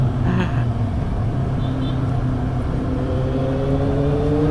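A Kawasaki Z800 motorcycle engine makes a steady, loud drone with a rising pitch as it revs, continuous and close, without talk.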